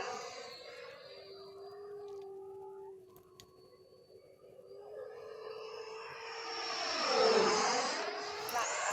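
An Arrows Marlin 64mm EDF RC jet on a 4S 2200mAh battery flies past with a steady whining ducted-fan tone, softening as it moves away, then swelling into a loud close whoosh as it passes overhead.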